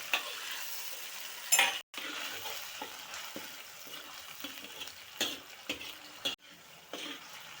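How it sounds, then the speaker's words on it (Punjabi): Hand-pounded masala spices roast in a pan with a low, steady sizzle and faint crackling, broken by a few spoon stirs and scrapes against the metal, and no one talks. "ਮਸਾਲਾ ਆਪਣਾ ਮੱਠੀ ਮੱਠੀ ਅੱਕ ਦੇ ਭੁੱਜਣ ਦਿਆ"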